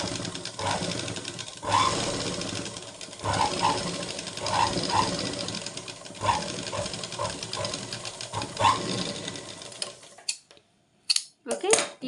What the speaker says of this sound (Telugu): ఇప్పుడు దీన్ని మన లైనింగ్ క్లాత్ని బయటికి ఇట్లా ఫోల్డ్ చేసి దీన్ని ప్రెస్ చేసుకుంటూ ఇప్పుడు దీనిపైన మళ్ళీ ఒక స్టిచ్ చేస్తాం